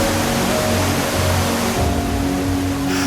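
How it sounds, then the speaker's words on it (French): The Tarn river rumbling at the bottom of its gorges, a loud, steady, broadband roar of rushing water heard from above, continuous with no talk. "faisant découvrir le Tarn grondant dans le fond des gorges"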